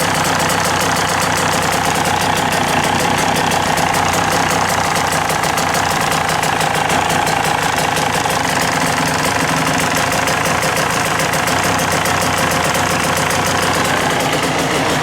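A KTM two-stroke dirt bike engine idles steadily and loudly up close after an air screw adjustment, with a fast, even, rattling putter and the idle rising slightly.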